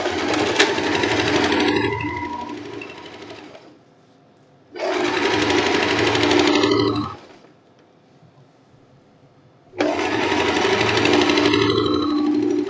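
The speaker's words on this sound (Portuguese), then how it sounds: "Costurando a outra lateral." Sewing machine stitching the side seam of a blouse in three loud, steady bursts of rapid mechanical chatter, each a few seconds long, separated by quiet pauses.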